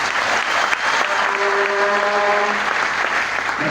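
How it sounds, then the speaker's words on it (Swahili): A church congregation at a revival meeting claps together in a loud, sustained burst of applause that fills the room, with a faint tone ringing briefly in the middle. "Tupigie Bwana Yesu makofi."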